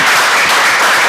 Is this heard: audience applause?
yes